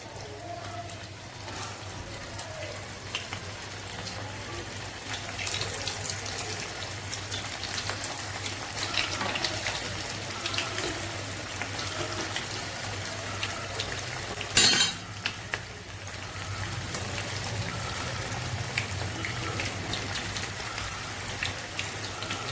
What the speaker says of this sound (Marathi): एक ते 2 मिनिटं चांगले फ्राय करून घ्यायचे एका बाजूने आणि नंतरच पलटी करायची आपल्याला.